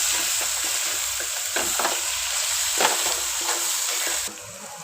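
Pav bhaji is stirred in a hot pan with red chili powder and pav bhaji masala, giving a continuous loud sizzle and rhythmic scraping strokes, close up and without talk, before the sizzle drops slightly at the end.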